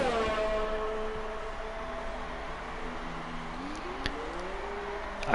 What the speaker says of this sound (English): I can hear his car coming out of the pits.